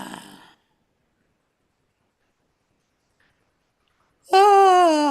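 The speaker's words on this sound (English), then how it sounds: "Maybe do a big yawn." A single big, voiced yawn from a person during a guided relaxation ritual arrives close and loud after a brief breath and several seconds of silence.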